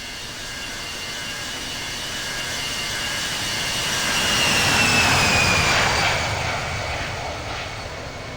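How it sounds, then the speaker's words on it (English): A heavy jet airliner takes off from runway 34 left at Sydney Airport in the Infinite Flight game, its engines a steady loud roar that swells midway and then eases, with no talk over it. "Fiji 910 Heavy, wind 150 at 8, runway 34 left, cleared for takeoff."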